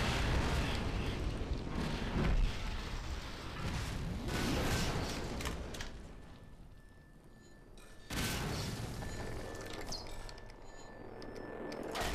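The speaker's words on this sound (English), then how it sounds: "we want to be very aware of the explosions going on around us" Explosions in the video game SMOD Redux boom and rumble in a dense, loud barrage, fading briefly before a fresh burst of blasts and gunfire-like crackle resumes.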